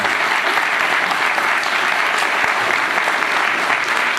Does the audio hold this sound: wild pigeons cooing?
no